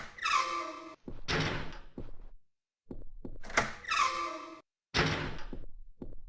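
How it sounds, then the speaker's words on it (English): A locked door in Hidden & Dangerous Deluxe being rattled rapidly by bots, bursts of fast buzzing, squeaking door thuds in two repeated groups separated by short silences. "they're gonna literally buzz the door, trying to open the locked door at the speed of light, as a bot does"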